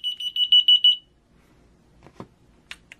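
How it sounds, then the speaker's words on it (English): A key finder receiver sounds a rapid series of shrill, high-pitched electronic beeps for about a second, then falls quiet, followed by faint handling clicks and rustles. "when you press a button on the transmitter, the corresponding receiver will sound."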